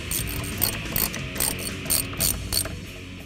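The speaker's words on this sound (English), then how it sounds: "Once you get them started, you can tighten them down." Bolts being tightened on a Barton Industries short throw shifter in a 2011-2014 Mustang, a ratchet clicking in quick repeated bursts, close and steady, with no talking.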